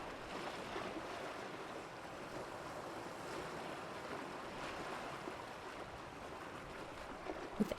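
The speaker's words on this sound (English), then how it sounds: "Let the sound of the ocean carry you." Ocean waves wash in as a steady, soft, broad rush of surf, with no distinct breaks, heard alone and fairly faint throughout.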